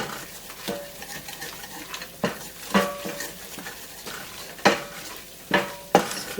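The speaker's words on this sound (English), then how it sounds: "Let that butter absorb into the flour, and we're going to cook that down" Butter and flour roux cooking in a pan while being stirred, with soft scraping and intermittent metallic clinks of utensil on pan over a faint sizzle, fairly quiet.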